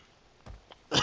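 A single short, sharp sneeze bursts out at the very end after a near-silent stretch broken by a couple of faint clicks, during a Call of Duty gaming session.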